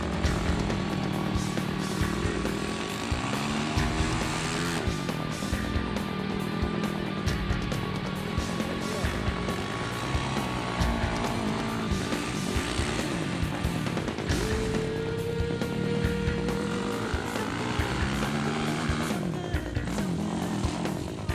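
Yamaha YFZ 450 ATV with Fox Float shocks and an aftermarket pipe, its engine revving and shifting continuously while riding, loud throughout with rising and falling pitch.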